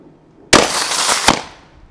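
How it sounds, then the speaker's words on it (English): A lithium-ion battery shorted by a nail bursts with a sudden loud blast, then a harsh, roaring hiss of venting that carries a second sharp pop before fading away, with no talking. "It actually exploded from the bottom, as well as giving off a lot of smoke, as the battery is very hot at this point from getting shorted out through the nail."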